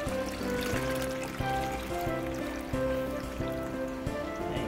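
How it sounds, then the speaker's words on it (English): Homemade Jamaican sorrel drink is poured through a coffee strainer in a kitchen, giving a steady close splashing trickle with a faint rhythmic knocking beneath it. "So now I'm going to strain it using this coffee strainer."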